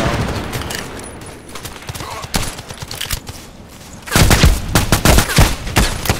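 Gunfire from the SR2M Veresk submachine gun in the video game Contract Wars: scattered single shots at first, then a loud, rapid automatic burst with dense repeated reports toward the end.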